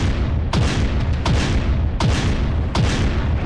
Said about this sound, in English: I think it must have been the artillery strike.